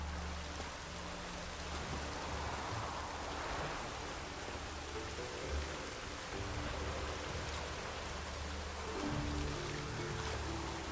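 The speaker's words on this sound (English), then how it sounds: "Hope it rains like this come sowing time." Continuous rainfall in Witcher 3, a broad, even patter of drops on surfaces that stays constant throughout, with faint low tones drifting under it and nobody speaking.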